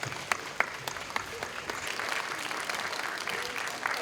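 Wedding guests clap steadily through a Hong Kong wedding ceremony, a dense, sustained round of applause from a crowd, fairly close and continuous without a break.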